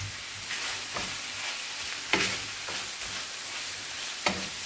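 Mushrooms go into a pan of frying onion for a Moroccan-style fettuccine, giving a steady close sizzle with several louder bursts and stirring scrapes.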